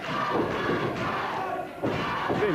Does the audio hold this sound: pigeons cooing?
no